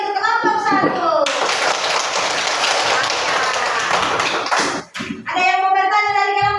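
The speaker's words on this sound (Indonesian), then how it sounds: "Mari kita memberikan aplaus yang meriah untuk kelompok 1" A second-grade elementary classroom bursts into applause for group 1: lively clapping from many hands lasts about three and a half seconds, with talking before and after.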